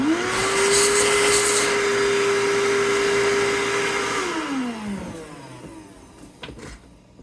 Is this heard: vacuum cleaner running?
yes